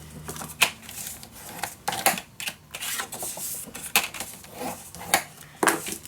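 Scrapbooking paper for an ocean-themed mini album being cut down, a series of short crisp snips and taps in an irregular rhythm, close and fairly quiet.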